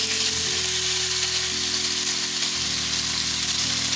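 Chicken pieces fry in canola oil in a pan, a steady close sizzle with a low electric hum and tonal shifts as the pieces are moved around.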